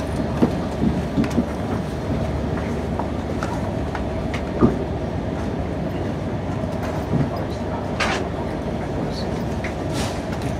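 An Arriva Trains Wales service runs into Cardiff Central, heard from inside the carriage as a steady low rumble with occasional clicks and faint knocks over the rails, continuous throughout.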